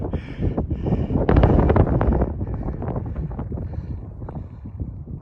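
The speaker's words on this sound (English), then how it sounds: "Wind's kicking in." Gusty wind roars and buffets steadily on an exposed ledge of a Grand Canyon hiking trail, loud and continuous with rustling bursts, no talking.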